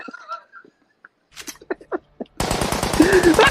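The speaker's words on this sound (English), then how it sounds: "Cue the gunshots" Staged gunshot sound effects used as a comedic cue on a podcast: a dense burst of rapid, loud automatic-fire-like bangs arrives abruptly after scattered short noises and continues to the end.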